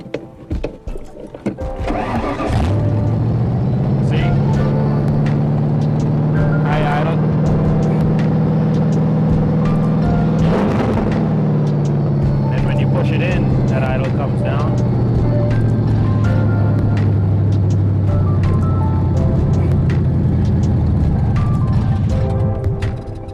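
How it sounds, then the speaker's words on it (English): A Ford Mustang engine with a newly installed carburetor and manual choke idles steadily and close by for over twenty seconds, its low hum holding level with a slight dip partway through, while a voice can be heard at times. "When you pull it out, it brings your idle back up so that you can warm up the motor."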